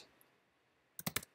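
A short burst of typing on a computer keyboard while entering a command in R: quiet room tone, then four or five crisp keystrokes in quick succession near the end, close and fairly loud.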